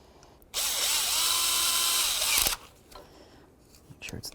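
A power tool drives bolts into a window regulator on a 1997–2005 Lexus GS, whirring loudly for about two seconds with a slight pitch shift, followed by quieter clinks and handling noise.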